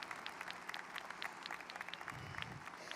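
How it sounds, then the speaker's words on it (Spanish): An audience at a prophetic proclamation event applauds together, a dense, steady patter of clapping that sounds moderately distant, with a faint murmur of voices underneath. "Un aplauso para ella, por favor."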